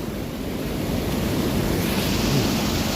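Swollen Midung river water rushes and overflows at a hydropower dam in Lamjung, a loud, continuous broadband roar close by with no talk, steady and slightly building.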